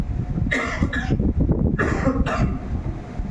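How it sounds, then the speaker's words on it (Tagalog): Two or three rough, close coughs in quick succession, with a low rumble of background noise underneath. "Bumalik yung ubo ko"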